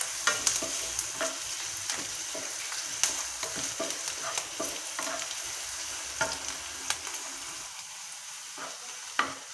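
Onions fry for golachi bhaji, a wild-vegetable dish, with a bright continuous sizzle broken by frequent spatula scrapes and taps on the pan, close up and with no talking.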